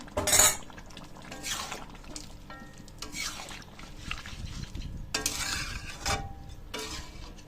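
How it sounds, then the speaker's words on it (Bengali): A spoon clinks and scrapes in a pot as garam masala is stirred into chicken meat, giving irregular metallic knocks and scraping strokes, with a sharp clink at the start, under light kitchen background noise. "তো আমি এখন পুরো মাংসের মধ্যে মিশিয়ে দেবো গরম মশলাটা।"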